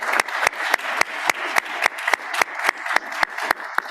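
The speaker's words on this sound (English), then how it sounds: "let's give one last round of applause to our speakers" Applause from an audience at a law and public policy symposium on constitutionalism, a steady run of sharp, rhythmic claps lasting several seconds with no talk over it.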